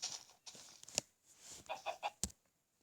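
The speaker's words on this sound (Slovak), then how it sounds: "Aj to je sliepka, to tiež môžeme zabiť, budeme mať mäso a pierku" Chicken clucking in the Minecraft video game, several short bursty clucks spread over a few seconds, fairly faint, with no talk over them.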